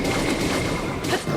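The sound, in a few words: Lynel ranged explosion attack in the video game Zelda Breath of the Wild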